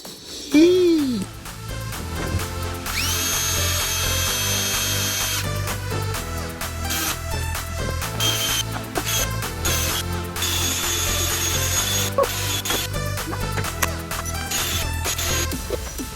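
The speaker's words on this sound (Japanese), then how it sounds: "多分ドリルでこれやらないとダメですね" A power drill whirs and grinds in repeated bursts, drilling out rusted bolts holding the bumper of a Toyota AE86, with metallic clanks and scraping between runs; a voice is heard briefly near the start.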